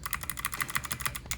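Rapid typing on a SteelSeries Apex 5 mechanical keyboard, a fast, uneven run of close, crisp key clicks and clacks with no talking.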